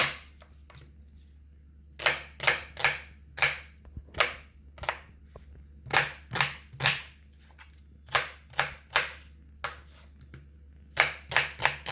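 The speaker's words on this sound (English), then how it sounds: "I am going to go ahead and just cut my seasoning up" A knife chops onion and seasoning on a cutting board for Jamaican brown stewed goat, sharp crisp strikes coming in quick clusters of two to four with short pauses between, close and clear without any talking.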